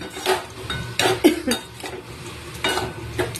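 Small new potatoes and green cabbage being stirred in a pan, with steady scraping and clinking of a utensil against the metal and a soft sizzle underneath, in close, irregular strokes.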